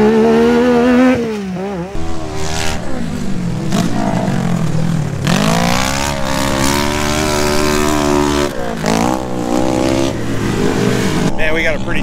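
UTVs race around a dirt track, engines loud and close, rising and falling in pitch as they accelerate, pass and back off through the turns, with overlapping motors heard throughout.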